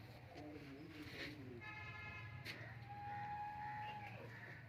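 A buffalo on a farm gives a low lowing call, with a long drawn-out moo-like note near the middle, heard against a steady background hum and some faint vehicle noise.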